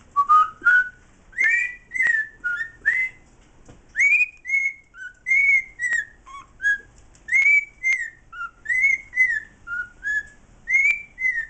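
A pet cockatiel whistles a familiar TV theme tune, clear rising and falling notes in short phrases with brief pauses between them, close and loud, heard alone in an indoor aviary cage.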